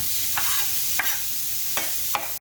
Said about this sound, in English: Now back on there with a hot plate, where we're going to chuck on our onion.